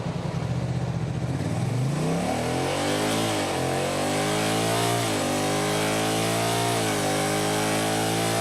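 A Honda DCT motorcycle engine at idle swells into a loud, rising rev under throttle, the pitch climbing steadily and holding high with small dips as the revs shift, continuous and close with no talk.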